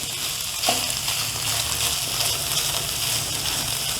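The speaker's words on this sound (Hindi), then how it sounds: "2 मिनट इसको भूनेंगे।" Carrots and filling for chicken veg rolls frying in a pan, a steady close sizzle with faint stirring scrapes throughout, no talking.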